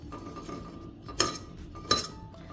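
Homemade hair oil ingredients are mixed by hand in a vessel on an unlit stove, giving a low scraping stir with two sharp metallic clinks against the pot, close and without speech.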